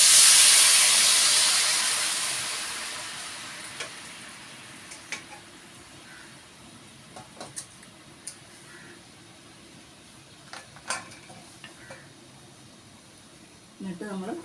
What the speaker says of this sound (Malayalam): ഈ ശർക്കര പാനി ഇതിലേക്ക് ഒഴിച്ചു കൊടുക്കാം.